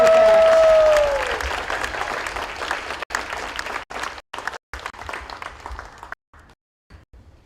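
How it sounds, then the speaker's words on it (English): Loud applause and some cheering from an audience at a high school honorary service awards ceremony for Kathy Wilpat, strong at first then thinning into scattered clapping and breaking off in gaps toward the end. "Let's give her a round of applause."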